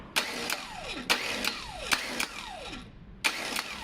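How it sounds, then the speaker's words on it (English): A car starter motor clamped in a vise on a test bench is switched on and off, giving four short whirring bursts that each spin up sharply and wind down, with brief quiet gaps between them. "you can flick it on and off multiple times and see if your starter motor is doing what it should"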